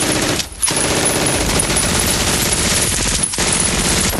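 Machine gun fire in a war film, a loud dense continuous rattle of rapid shots broken by two brief pauses.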